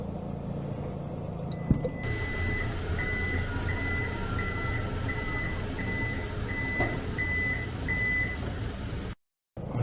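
A Toyota Prado 250 GXL tailgate warning beeper, set to its loudest level, sounds a regular series of about nine evenly spaced, clear electronic beeps over a steady engine hum, then cuts off briefly near the end.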